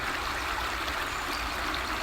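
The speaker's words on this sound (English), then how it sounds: "the river that I'm currently stood up to my ankles in" River water flows and gurgles steadily around wellington boots while someone stands ankle-deep in the stream, a close, continuous rushing wash.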